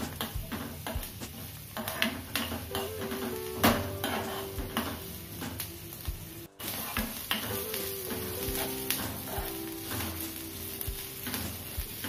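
Ingredients for a paneer masala curry fry gently in a little oil, giving a continuous soft sizzle layered with frequent clinks and scrapes of a utensil against the pan, close and fairly quiet.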